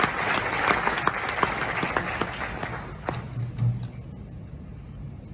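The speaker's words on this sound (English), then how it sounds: "Please, a round of applause." A crowd applauds with dense, sustained clapping that gradually thins out and fades toward the end.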